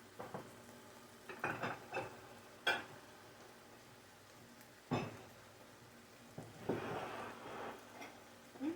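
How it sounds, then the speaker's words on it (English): Shrimp cook in a pan for a clam and vegetable stir fry, giving soft sizzling with intermittent stirring scrapes and clinks of a utensil against the pan, close and fairly quiet, with no talking. "So now let's just try and cook the shrimp a bit"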